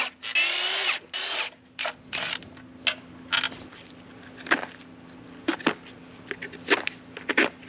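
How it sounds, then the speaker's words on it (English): A power tool whirs in short bursts while removing timing cover bolts from a Ford 3.5L EcoBoost engine. A longer spin opens the sequence, followed by scattered clinks and rattles of bolts and metal parts being handled. No one speaks. "let me remove all the timing cover bolts, and the timing cover should come right out"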